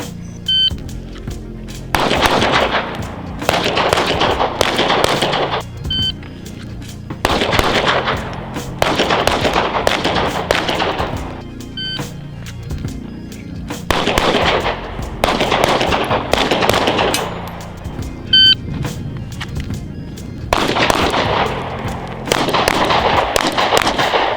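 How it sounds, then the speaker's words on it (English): Repeated Sig Fuse pistol shots ring out in bursts during a timed drill at targets, each volley loud and sharp with short pauses between, close to the microphone. "engage this first target twice, get up, walk towards the orange cone, engaging both other targets 2 times each, total 6 shots"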